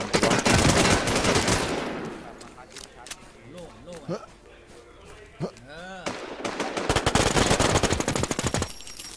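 Gunfire in the Infestation video game: dense rapid automatic bursts open and close the passage, with sparser shots in between and people talking over the shooting in the middle.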